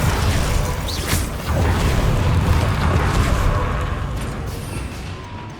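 Expelliarmus spell effect in Hogwarts Legacy, a loud, sustained crackling rush with a bright magical zap near the start, staying dense and forceful before easing slightly at the end.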